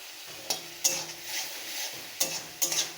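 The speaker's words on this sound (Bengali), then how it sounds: "দিয়ে ভালো করে নাড়াচাড়া করে নেব।" Spoon stirring pointed gourd (potol) with salt and turmeric in a frying pan, a few sharp scraping clinks against the pan over a soft steady sizzle, close by with no talking.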